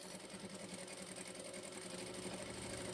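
A sewing machine stitches across a faux leather tote bag, running in a steady, continuous whirring drone with a fast needle rhythm and no pauses.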